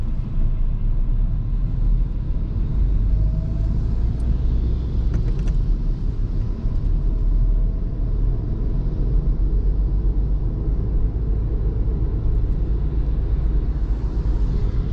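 A car pulling along in second gear through the streets of Tauragė, with a steady low engine and road rumble holding constant throughout and no talk.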